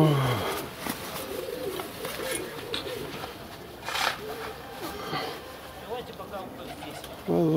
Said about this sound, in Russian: Окном голуби дерутся. Непрерывно.